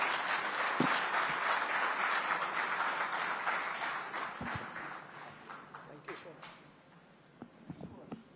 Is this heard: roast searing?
no